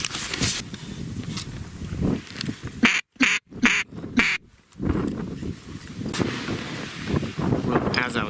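Mallard ducks quack while flying over a hunting blind on open water, loud, close calls repeated through steady wind noise, with a brief cutout in the middle.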